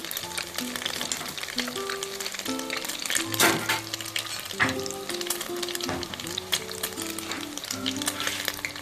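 Crumbed sausage rolls sizzle and crackle steadily in hot oil in a frying pan, with brief louder spatters as they are turned.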